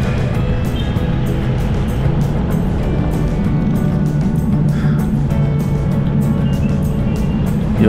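Road traffic on Marcos Highway in Antipolo City, a loud, steady rumble of passing vehicles close by, with no talk.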